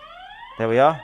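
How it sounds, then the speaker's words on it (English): A security camera's built-in alarm siren goes off as a steady electronic wail that surges louder and rises in pitch, with a voice briefly speaking over its start. "That's the alarm going off."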